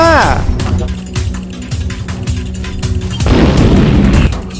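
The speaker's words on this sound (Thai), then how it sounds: "จัดการยิงมันเลยหุ่นยนต์โกโกวา" A video game robot fires its weapon amid booming explosions: heavy blasts and bursts stacked over a rumbling background, loud and close, with a voice talking over the effects.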